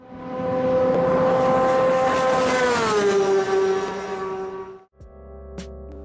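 Kawasaki ZX25RR 250cc motorcycle with a turbo fitted revs loud and high, holding a strained wail before the pitch sags. It then cuts off abruptly into a lower idle with a sharp click.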